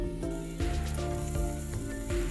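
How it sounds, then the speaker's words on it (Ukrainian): Chicken fillet sizzling in a hot oiled pan, a continuous crackling fizz over a low steady hum, close by. "Філе смажимо на змаченій олією пательні з обох боків до золотистості."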